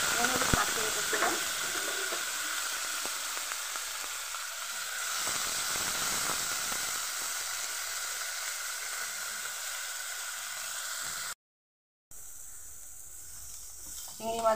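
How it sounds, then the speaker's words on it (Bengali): Shrimp fry in oil in a pan with a steady, bright sizzle and hiss that runs throughout, with occasional stirring noises and a brief cut near the end. "চিংড়ি মাছগুলো এই পরিমাণে আমি ভেজে নিয়েছি।"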